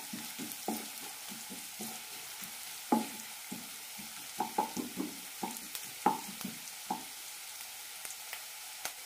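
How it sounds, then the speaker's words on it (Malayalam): Sliced onions sauté in ghee in a pan for coconut-milk ghee rice, giving a steady soft sizzle broken by repeated sharp knocks and scrapes of a stirring spoon against the pan, close up, with no voices. "നന്നായി വഴറ്റാം. സവാള കണ്ണാടി പരിവായിൽ മതി."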